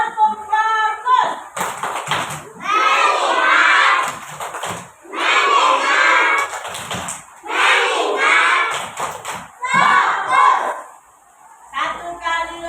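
A class of children performs the tepuk fokus clapping chant together, loud rhythmic bursts of shouted chanting and claps in several waves, with an adult voice speaking before it begins.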